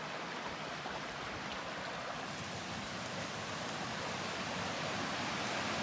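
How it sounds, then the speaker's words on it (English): A waterfall at Lac aux Sables on the Mississagi canoe route, a steady broadband rush of falling water that holds an even, moderately distant level throughout, with no voices. "First waterfall I think I've seen on this trip."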